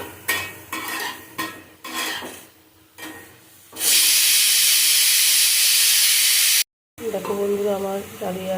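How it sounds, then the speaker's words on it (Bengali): Vegetables for daliya khichdi stir and scrape in a pan with utensil clatter, then a loud, steady sizzle and steam hiss takes over before a cut. A voice speaks near the end. "সবজিগুলো সব ভেজে নেবো"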